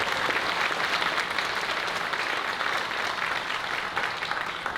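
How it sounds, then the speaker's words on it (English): A school audience at the Hampton Bays High School senior awards applauds a student singer after the national anthem, with dense, steady clapping filling the hall at close range for the whole stretch and no voices standing out. "Please a round of applause for her"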